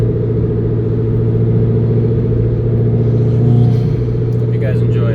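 2016 Subaru WRX fitted with an ETS cold air intake, its engine humming steadily at a constant drone from inside the cabin while someone talks over it, not yet revving hard.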